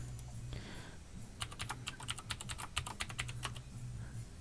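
Rapid clicking keystrokes on a computer keyboard, a steady run of close, crisp taps lasting a few seconds over a faint low hum.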